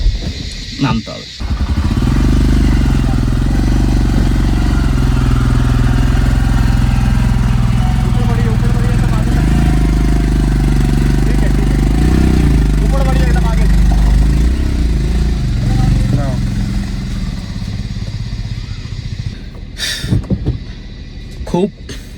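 A motorcycle engine labours at a steady drone on a rough, wet mountain road near Yang Yang in Sikkim, straining without much change in pitch. It cuts out near the end, leaving a few short knocks and bumps.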